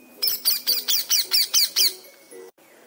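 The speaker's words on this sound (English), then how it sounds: "Manoj has a parakeet named Pintu." A pet parakeet chirps in a quick run of about eight sharp, evenly spaced calls, close and clear, then falls quiet.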